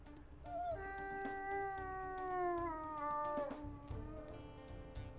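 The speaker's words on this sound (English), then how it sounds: "I call that one the pain howl because it sounds like the wolf is in pain." An in-game wolf from WolfQuest gives a strained, wavering pain howl. The high, whiny cry rises and falls for about three seconds, then a shorter cry follows. It is close and clear, with no voices over it.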